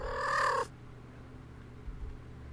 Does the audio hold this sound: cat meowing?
yes